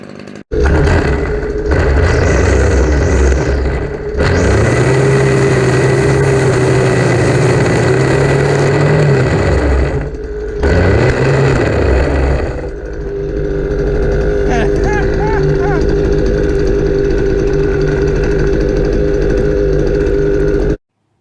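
A weed eater's string trimmer engine runs loud and steady against a 3D printer, with revving surges and brief drops around the middle, then settles into a rougher, lower drone toward the end; no speech.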